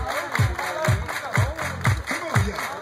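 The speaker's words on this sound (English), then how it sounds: "Everybody clap your hands!" A crowd claps along at a party or dance, with loud rhythmic claps landing roughly every half second over steady music and background chatter.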